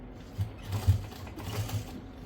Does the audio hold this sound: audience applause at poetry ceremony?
no